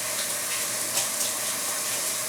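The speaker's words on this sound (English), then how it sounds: "Rinse my cloth out." Water runs steadily from a sink faucet as a Norwex Envirocloth is rinsed under it, a continuous close hiss that stays even throughout, with no talking.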